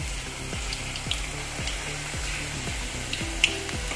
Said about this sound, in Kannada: ಎಣ್ಣೆ ಬಿಸಿ ಆಗ್ತಾ ಬಂತು, ಈಗ ಸ್ವಲ್ಪ ಸ್ವಲ್ಪ ಸ್ಪೂನಲ್ಲಿ ಹಾಕುವ.